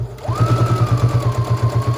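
A sewing machine stitches a tote bag pocket, its needle running in a fast, even, close mechanical chatter with a low motor hum throughout.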